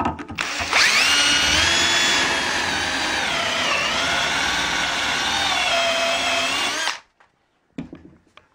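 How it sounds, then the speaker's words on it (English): A power drill bores a dowel hole through a dowelling jig for a door frame, a loud, sustained high whine for about six seconds that stops abruptly, followed by a brief clunk. "And we drill number 4 also."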